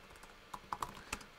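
A command is typed on a computer keyboard: a few close, sharp key clicks in an uneven rhythm, alone against a quiet background.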